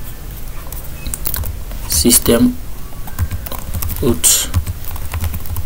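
Computer keyboard typing Java code, with quick irregular clicks and a couple of louder bursts of keystrokes, close and clear beneath someone speaking French.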